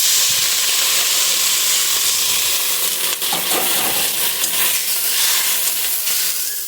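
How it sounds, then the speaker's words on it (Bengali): Water poured into a hot pan of tengra fish curry, giving a loud, steady hiss and steam that carries on through the clip, with a brief burst of bubbling partway in. "এখন জলটা দিয়ে দিচ্ছি, জল"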